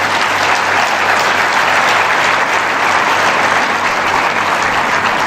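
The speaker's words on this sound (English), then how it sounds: "Give him a big round of applause." A large hall audience at a Karnataka Bank Founders' Day event breaks into loud, dense applause that holds steady throughout with no gaps.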